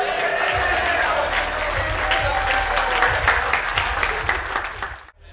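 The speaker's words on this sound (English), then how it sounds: "Come on, cheer them on!" An audience applauds and cheers, a dense burst of clapping with low rumbling crowd noise underneath, holding steady before cutting off abruptly at the end.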